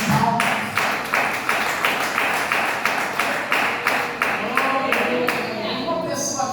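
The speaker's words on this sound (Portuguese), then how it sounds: "Exalta Jesus com palmas." A congregation at an evangelical church service claps in praise, a loud, steady rhythm of about two claps per second, sustained throughout with no speech.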